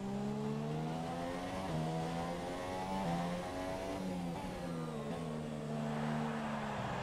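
A Formula 1 car in F1 2017 screams as it accelerates out of a corner, its high engine note climbing steadily through gear changes, loud and continuous with no talking.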